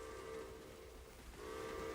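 At Walt Disney World, the Wildlife Express train sounds its steam-style whistle in a sustained multi-tone chord, faint and distant, with a brief dip partway through before it sounds again.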